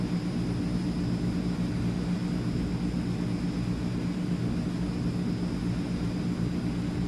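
Engines of a Transall C160 cargo plane in Microsoft Flight Simulator hum as a steady, heavy low drone that stays at an even loudness throughout, with no talking over it.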